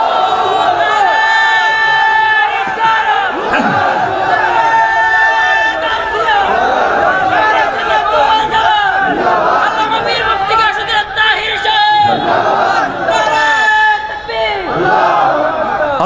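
A large crowd at a religious rally shouts a chant together, loud and close, in repeated rising call-and-response waves with cheers and whoops and a steady babble of voices underneath.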